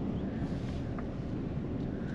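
Strong winter wind buffets the microphone in a constant, heavy low roar with no pauses, in a parking lot in Amarillo, Texas.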